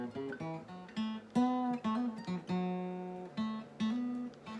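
A clean electric guitar plays a short blues lick of plucked notes, hammer-ons and slides, with one note bending upward in pitch before ringing out.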